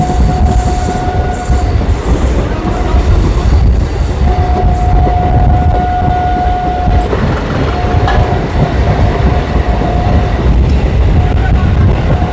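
A passenger train on the Krishnanagar–Amghata line, heard from the last carriage, rolls loudly and steadily, with intermittent high wheel squeals over a constant rumble.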